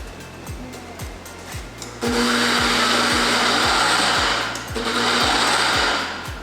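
A blender motor whirs loudly in two long bursts while blending a melon scrub, separated by a short dip, with faint rhythmic ticking underneath and before it starts.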